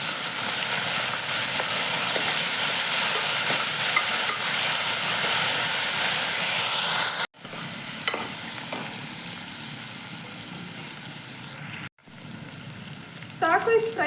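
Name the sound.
frying mint and coriander for mutton keema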